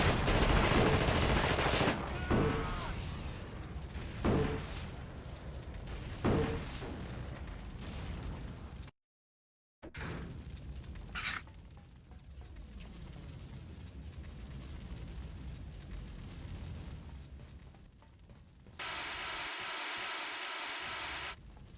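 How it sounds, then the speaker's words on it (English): Grenades and flame grenades going off in The Thing Remastered game, a run of heavy booming blasts and bursts close together, then a short silent break and more rumbling blasts with a roaring burn toward the end. "I'm weakening up those simulations with super grenades, and then I'm just going to start bombing everything with flame grenades"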